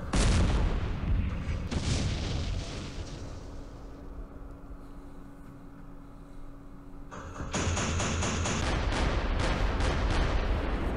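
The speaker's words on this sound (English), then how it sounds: "The recoilless rifles from across the valley." Recoilless rifles fire from across a valley in the war game Campaign Series Middle East. Heavy booms open and close the stretch over a steady rumble, with a quieter lull between the blasts.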